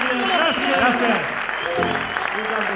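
A concert audience applauds loudly and steadily at a tribute concert, with a voice speaking over the clapping.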